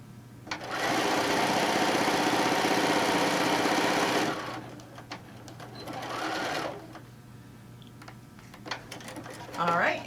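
A sewing machine stitching a tote bag panel runs in a steady whirring burst of about three seconds, then a shorter, slower run follows with small clicks and handling noises between.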